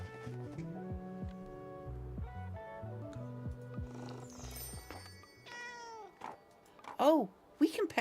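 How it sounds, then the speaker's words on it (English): A cartoonish cat meows twice in the cozy video game Tiny Bookshop, bright and close near the end, following soft background music and a voice talking. "Oh, we can pet the kitty."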